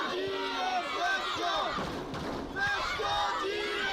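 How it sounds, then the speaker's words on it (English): Bradford Union fans cheer and chant at a women's football final in Ontario, a steady crowd roar under a commentator's voice, with a brief swell midway. "It certainly sparks the Bradford Union fans in attendance as they cheer on Let's Go Union"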